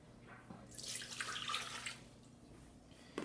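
One cup of water pouring for a rowan berry smoothie, a soft rushing splash that swells for about a second and trails off, quiet and close, no talking.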